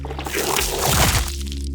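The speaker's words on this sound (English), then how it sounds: "flesh rips" A wet, tearing squelch with a crunchy, gristly texture, loud and close, ending abruptly in a low lingering rumble.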